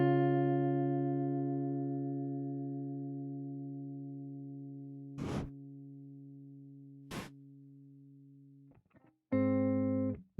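A sustained synthesized chord rings out for several seconds in a house music production session and slowly fades, broken by two short sharp transients, then a louder chord stab returns near the end.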